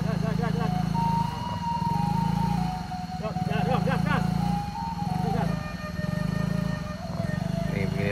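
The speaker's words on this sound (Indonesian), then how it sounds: "inilah cara evakuasi motor metik melewati jalan berlumpur" An automatic scooter motorcycle's engine drones steadily and revs while struggling through a muddy landslide road at Bukik Gandum on the Pessel–Solok route, close and continuous, with people talking over it.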